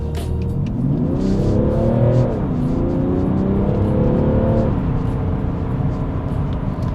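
An Alpina D3 S diesel engine accelerates steadily, its pitch rising through the gears with a brief shift dip, heard from close by with constant background rumble.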